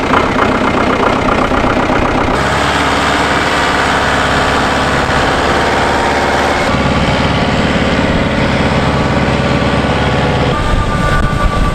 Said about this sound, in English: It's an EB Alpine tractor, which is very light and has a really low ground pressure.